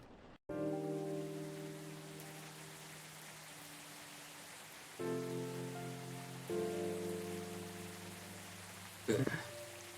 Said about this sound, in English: You're riding your bike, but it's raining outside.